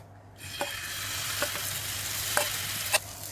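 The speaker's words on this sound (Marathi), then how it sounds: "त्याच्यावर केलेले मिश्रण टाकूया." A potato and egg batter sizzles on a buttered tava over a low flame, a steady fry broken by a few sharp scrapes and taps of a spatula spreading it, with no voices.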